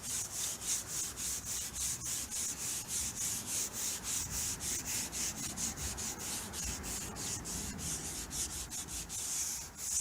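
Hand sanding of a wooden kitchen counter top along the grain, a steady rhythmic rasp of strokes repeating about every quarter second, close and continuous with no talking.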